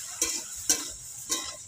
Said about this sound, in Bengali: আর একটু নাড়াচাড়া করে একটু ভাজা ভাজা করে নেব